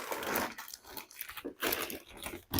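A plastic bag crinkles and rustles in close, continuous bursts as an Antminer S21 ASIC miner is pulled out of it, with no speech.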